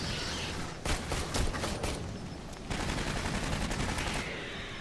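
An automated gun turret firing in Aliens: Colonial Marines: loud, sustained rapid bursts of fire in a dense, continuous stream, briefly easing before resuming.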